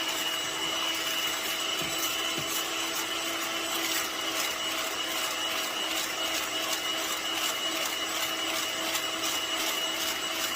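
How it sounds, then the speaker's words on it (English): An electric mixer whips egg whites toward stiff peaks for an Italian cream cake, a steady whirring motor hum with a faint beating rattle, continuous and close, with no talking. "And I'm turning the mixer up little by little."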